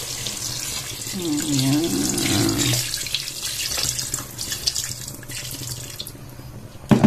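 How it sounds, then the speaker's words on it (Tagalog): Water runs steadily into a cooking pot for a simple home-cooked chicken dish, a continuous splashing pour that fades toward a softer trickle; a voice speaks briefly. "lagyan na natin yung tubig"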